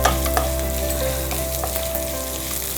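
Finely chopped ginger and green chillies sliced into rounds sauté in a pan with a loud, continuous sizzle, crackle and light stirring up close, with no talking.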